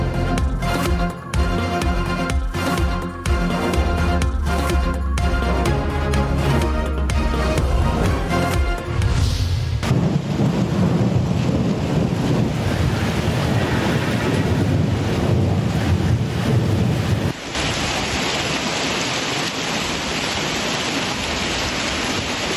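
A violent storm in Islamabad with torrential rain and strong winds. After a musical opening, a loud, continuous roar of wind and pouring rain fills the second half without any voices.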